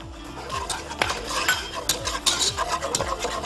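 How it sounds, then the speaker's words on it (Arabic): A spoon scrapes and clinks against a metal pot while stirring flour into béchamel sauce, a steady repeating rhythm of close, moderately loud scraping strokes with no talk. "نقلب كده تقليبه حلوه"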